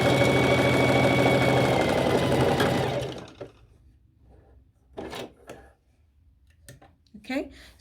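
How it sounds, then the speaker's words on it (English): A sewing machine stitches fabric in one fast, loud continuous burst that stops after about three seconds, followed by quieter handling sounds and a person speaking. "I'm going to stitch it very quickly"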